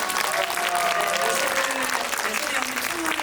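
A theater audience at a Korean film screening and Q&A applauds in a dense, continuous burst of clapping. A voice is heard faintly underneath.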